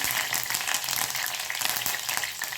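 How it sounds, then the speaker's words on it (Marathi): Mustard seeds, cumin and curry leaves hit hot oil and sizzle loudly and steadily, with dense crackling and spitting and no voices. "राई घालते, जिरं, कढीपत्त्याची पानं"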